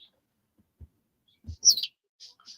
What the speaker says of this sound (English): Shut that bird up.